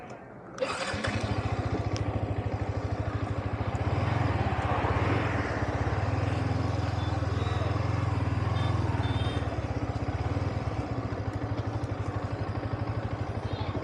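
A Yamaha R15 V4 motorcycle engine starts up and then runs at a steady, loud, close drone that holds for the rest of the stretch, with a faint rise in the middle and no talking over it.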